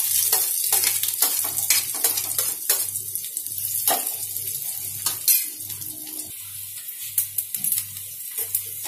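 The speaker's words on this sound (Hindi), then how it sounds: "तेल गरम हो गया है। अब हम इसमें जीरा, राई और कड़ी पत्ता डाल देंगे।" Cumin, mustard seeds and curry leaves crackling in hot oil, a close busy sizzle with sharp pops and clatter over a pulsing low hum, without talk.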